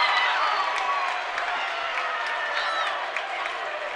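A crowd at a high school varsity boys' basketball game, Lyons Township vs. Hinsdale Central, cheers and applauds loudly in a dense, sustained roar with scattered whoops, easing slightly toward the end.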